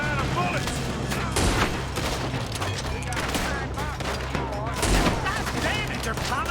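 A dense gunfight in the video game Red Dead Redemption 2: rapid, overlapping gunshots crackle and boom continuously, with heavier blasts standing out every second or so.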